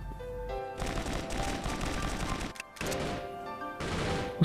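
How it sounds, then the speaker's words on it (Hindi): Video game gunfire comes in close, loud automatic bursts: a long stream of rapid shots, a brief gap, then two more bursts. "फिर उस पर भी फायरिंग करी"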